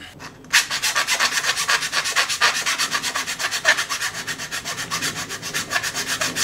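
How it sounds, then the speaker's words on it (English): A hand file rasps rhythmically across metal angle offcuts, cleaning off burrs with steady back-and-forth strokes, close and continuous with no talking. "I've got to clean off the burrs, file them down a little bit."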